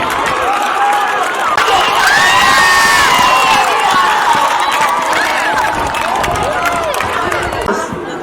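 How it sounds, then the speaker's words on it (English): A loud school sports day crowd cheers and shouts through a race, with children's voices and whoops forming a dense, continuous roar that stays strong throughout. "Please, the audience, cheer him up."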